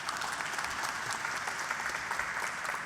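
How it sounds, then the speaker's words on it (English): Dense applause from an audience at a formal reception for a Philippine design exhibition at the National Museum, steady clapping filling the whole moment with no break. "You're getting more applause than me."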